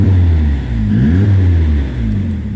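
A 1986 Ford Sierra L runs nearby with a steady low engine hum and a smooth rise and fall in pitch, like a light rev, heard alone and fairly loud.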